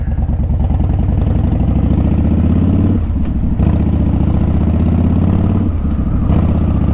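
A Harley-Davidson Dyna Wide Glide, a 2013 model, rumbles steadily as it is ridden, its loud low V-twin throb continuous and close, with brief dips and surges where the throttle changes.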